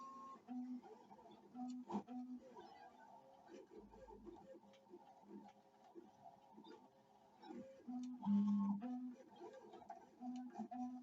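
A cutting machine cutting a personalized design for a laptop sleeve, faint steady mechanical whirring with tonal motor hums and small ticks, rising briefly in a louder whine.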